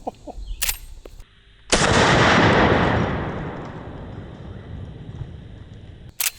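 A single very loud, close rifle shot from a 45-70 bear load hits a bulletproof shield, its blast decaying over several seconds amid light handling noise.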